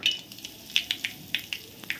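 Mustard seeds, cumin and asafoetida hit hot oil for a traditional jackfruit dish tempering, giving a steady close sizzle broken by sharp, irregular crackling pops as the seeds burst.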